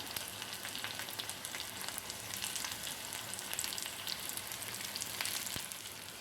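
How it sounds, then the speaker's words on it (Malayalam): Shallots, dried red chillies and curry leaves frying in oil for a breadfruit curry, a soft, steady sizzle with scattered small crackles and pops, heard close but fairly quiet throughout. "ഒന്ന് പൊട്ടി വരുമ്പോഴേക്ക് നമുക്ക് ഒരു രണ്ടോ മൂന്നോ ചുവന്നുള്ളി ഒന്ന് വട്ടത്തിലരിഞ്ഞ് ചേർക്കാം രണ്ട് വറ്റൽമുളക് മുറിച്ചത് ചേർക്കാം ആവശ്യത്തിന് കറിവേപ്പിലയും കൂടെ ചേർത്ത് കൊടുക്കാം"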